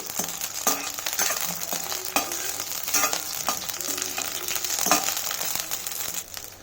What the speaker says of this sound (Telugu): ఇందులోకి పచ్చిమిర్చి ముక్కలు వేసుకోవాలి. వీటిని ఒక 2 to 3 minutes వేయించుకోండి.